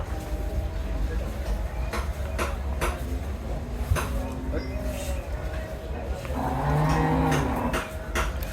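Cattle at a busy livestock market, with low moos rising near the end over a constant crowd murmur and people talking nearby.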